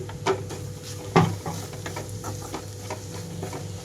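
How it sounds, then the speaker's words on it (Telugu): Beetroot fry with green chilli and coconut masala cooks over a low flame in a pan, giving a soft continuous sizzle broken by repeated scraping stirs and a few sharper clinks. "మొత్తం కలిపేసిన తర్వాత 2-3 నిమిషాల పాటు లో ఫ్లేమ్లోనే ఉంచి వేయించుకుంటున్నాను"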